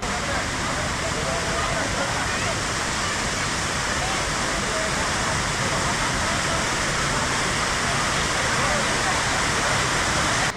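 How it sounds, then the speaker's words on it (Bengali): Steady roar of an artificial waterfall fountain in Green Valley Park, Lalpur, Natore, a loud continuous rushing wash of falling water filling the whole span without a break. "মুভির পাশে এখানে খুব সুন্দর একটি ঝর্ণা তৈরি করা হয়েছে।"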